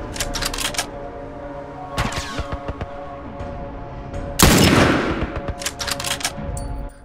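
Sniper rifle fire in The Last of Us, several sharp close gunshots with echoing tails spaced a few seconds apart, one louder burst standing out, mixed with game ambience and no speech.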